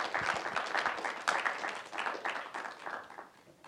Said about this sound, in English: Let's give another round of applause for Nicholas.